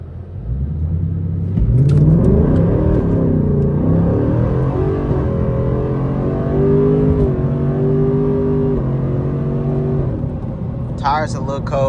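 A Ford Mustang S650 on Nitto NT05 tires accelerates hard from inside the cabin, a deep engine rumble climbing through gears with steady loud drone, then a short clatter at the end.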